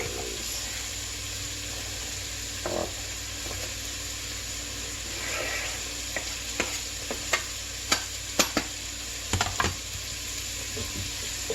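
Meat browns in a pot with a soft, steady sizzle. Sharp clicks and scrapes from a stirring utensil come in clusters near the end, close by and fairly quiet.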